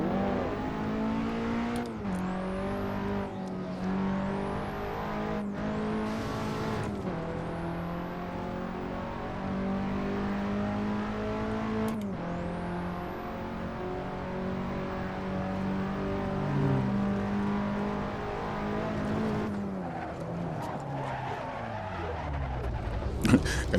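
A Nissan S15 Silvia engine drones steadily at high speed over a bumpy road, its tone rising and dipping through gear shifts, with thumps, brief rattles and occasional road noise underneath, close and continuous throughout.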